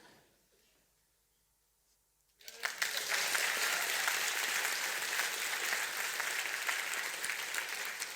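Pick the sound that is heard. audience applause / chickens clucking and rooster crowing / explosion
audience applause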